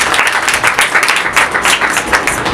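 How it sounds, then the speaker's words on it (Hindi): A congregation applauds during a church sermon: dense, steady clapping from many hands fills the room, loud and sustained without a break. "तालियां बजाओ"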